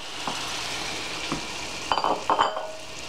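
Pork tenderloin stir-frying in a pan, a steady sizzle with a few stirring scrapes and light clinks of utensil against pan, close up with no talking.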